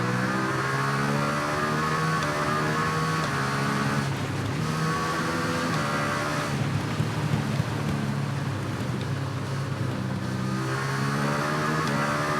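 Motorbike engine in the racing game TT Isle of Man 2, holding a steady loud drone with stacked rising harmonics as gears shift, briefly easing around four and seven seconds before climbing again, continuous with no talking.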